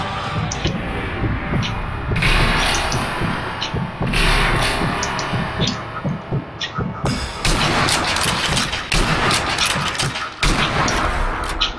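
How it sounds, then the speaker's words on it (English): Gunfire in the video game Sniper Elite V2 as an enemy fires a machine gun: loud, dense volleys of shots and bursts continue almost without pause, with heavy booming impacts layered throughout. "There's a guy shooting me with a machine gun."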